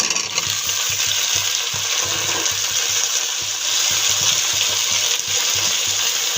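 Beans, potato and eggplant tipped into a pan of browned onions and chopped green chilli, giving a steady loud sizzle of frying with stirring scrapes and faint low thumps throughout.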